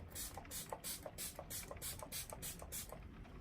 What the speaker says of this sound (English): I'm using my favorite MAC Fix Plus, and I'm just taking this and spraying a couple sprays all over